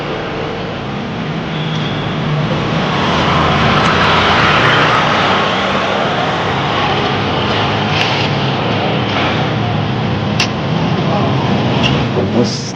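Broad, rumbling drone of a helicopter passing overhead, swelling to a peak mid-way then easing off, with people talking beneath it.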